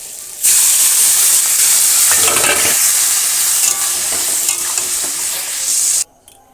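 Water poured into a hot pan of fried egg curry base, which bursts into a loud, sudden hissing sizzle that holds for several seconds, with a stirring flurry before it cuts off abruptly.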